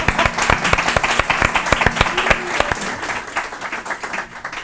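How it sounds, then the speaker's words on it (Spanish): A live audience breaks into applause for a woman just introduced as a television pundit, dense hand claps that rise loudly and then gradually thin and fade over a few seconds. "yo pido un aplauso para ella también"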